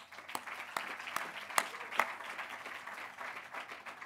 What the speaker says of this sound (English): please give another round of applause for our speakers